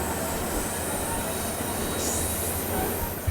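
Steady rumble and rolling rail noise from the Rocky Mountaineer passenger train on a Canadian route, with a faint high wheel squeal rising briefly midway, continuous and fairly close with no talk.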